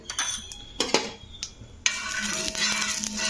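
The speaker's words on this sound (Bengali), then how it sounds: "তো তেলটা দিয়ে একটুখানি চারধার মিলিয়ে দিতে হবে, তাওয়ার চারধার।" Oil is spread around a hot tawa griddle: a few sharp metallic clinks and scrapes, then a steady close hiss of oil sizzling on the hot pan, with no talk.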